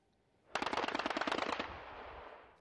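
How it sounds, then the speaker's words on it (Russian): Sustained machine gun fire in a combat zone near Avdiivka's industrial area, Donetsk region, a rapid loud burst of closely spaced shots lasting about a second, then a fading echoing tail and a sharp report at the very end. "Днем боевики открывают огонь из пулеметов и гранатометов."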